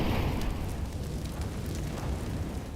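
An incendiary grenade (molly) burns in Counter-Strike, giving a loud, steady, roaring crackle that fills the whole stretch without pause.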